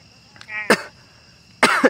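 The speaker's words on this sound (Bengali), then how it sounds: "কাশি লাগছে" Two short, harsh coughs burst out about a second apart, close and fairly loud, with a faint voice murmuring briefly between them.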